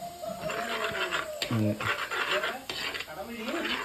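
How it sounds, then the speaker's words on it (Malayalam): A spoon scrapes and clinks around a pot of crab curry as coriander powder is mixed in, with repeated stirring strokes and a sharper metallic knock midway, while a voice sounds faintly nearby. "ഇനി മല്ലിപ്പൊടി മല്ലിപ്പൊടി മിക്സ് ചെയ്യാം"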